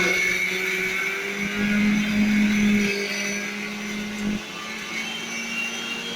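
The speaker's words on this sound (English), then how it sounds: "the green chili is all in the mixie now, along with sombu and cinnamon. Now again grinding." Mixer grinder grinding green chili, fennel and cinnamon, a steady loud whirring motor drone with a pitch that rises and dips slightly as the load shifts, running continuously throughout with no talk.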